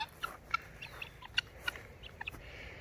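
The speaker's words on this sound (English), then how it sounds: "let's go up here and say hi to the guineas. See if they scream at me or not." Guinea fowl calling in a homestead pen, a string of sharp, rhythmic squawking cries at close to moderate distance, with no talking.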